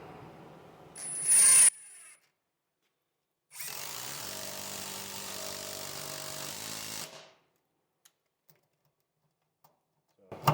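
A Metabo HPT 18V triple-hammer impact driver fires in one loud burst of rapid hammering lasting about three and a half seconds. Quiet gaps with faint clicks come before and after it.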